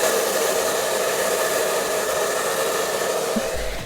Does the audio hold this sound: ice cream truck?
no